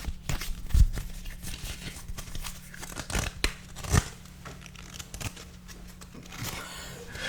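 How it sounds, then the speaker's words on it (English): Quick riffling and snapping of playing cards being shuffled, several short bursts with rustling in between, close and fairly quiet. "I'm just gonna shuffle the deck."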